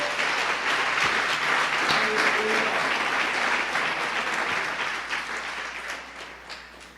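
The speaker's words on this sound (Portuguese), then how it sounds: "Dê uma salva de palmas ao Senhor." A church congregation claps together during a service, a dense sustained round of applause heard from within the room that holds steady and then gradually tapers off toward the end.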